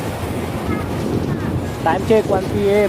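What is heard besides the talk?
strong wind at the seaside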